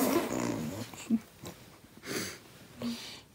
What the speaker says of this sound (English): Man caught with dog.